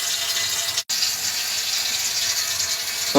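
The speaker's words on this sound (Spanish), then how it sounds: "Con el agua circulando, a través del filtro y a través del cartucho de polifosfato" Water runs steadily through a newly installed double-housing filter with a polyphosphate cartridge, a constant faucet-like hiss and flow with one brief dropout near the start and no voices.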